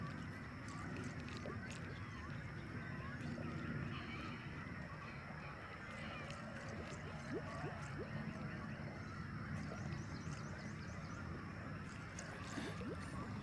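Geese honking at a distance amid a low ambient rumble during bass fishing, calls scattered and faint with occasional muffled talk.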